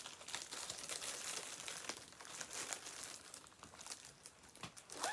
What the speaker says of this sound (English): Sorry for the crinkles.